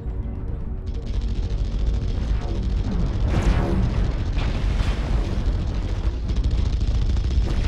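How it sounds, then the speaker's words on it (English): Airstrike explosions pound a MechWarrior Online battlefield, a dense continuous roar of blasts and rumbling booms that swells and surges for several seconds with no voices. "Someone called an airstrike."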